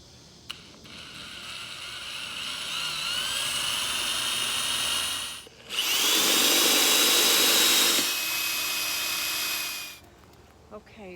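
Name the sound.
drill with 3/8 inch bit drilling hole in beehive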